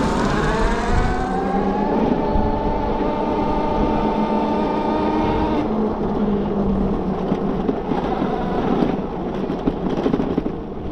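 Bafang BBSHD mid-drive e-bike motor with a nylon gear, on an Aventon Sinch e-bike running 75.6V with a Phaserunner V6 controller, giving a loud, steady whining drone with pitch that climbs and shifts, over wind rumble.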